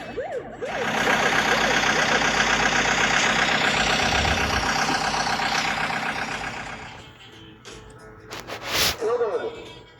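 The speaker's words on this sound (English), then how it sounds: "Excavator." An excavator's heavy diesel engine rumbles loudly and steadily for several seconds after a brief siren wail, then fades into softer background noise and a short burst of sound.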